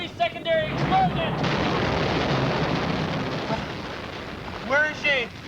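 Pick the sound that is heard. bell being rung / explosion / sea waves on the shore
explosion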